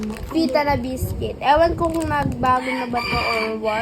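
A rooster crows repeatedly in the background, its drawn-out calls rising and falling under a person talking close by.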